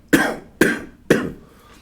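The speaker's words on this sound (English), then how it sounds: "excuse me if I'm sniffling and coughing a little bit through this" A man with allergies coughs three times, sharp and evenly spaced, each one a harsh burst close to the microphone that trails off quickly.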